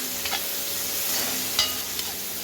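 Masala for a jilebi fish curry sizzles steadily in hot oil, a dense crackling fry with occasional stirring scrapes close by, no talking.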